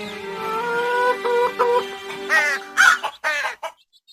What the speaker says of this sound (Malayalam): കാക്കച്ചി